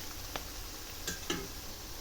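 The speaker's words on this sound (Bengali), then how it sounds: "আবার একটু নেড়ে দিচ্ছি। পেঁয়াজ ভাজাগুলো প্রায় হয়ে আসছে।" Onions fry in a pan while being stirred, a soft steady sizzle with a few brief scraping clicks of the spoon, quiet and close.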